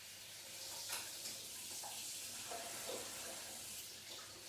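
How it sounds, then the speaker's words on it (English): Hot water draining off cooked broccoli into a sink, a continuous faint rushing pour with soft splashy bursts, no talking. "Turn off that broccoli now, and I'll just drain that."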